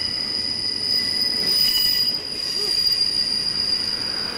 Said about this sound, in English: When these trains come through and you're in the tunnel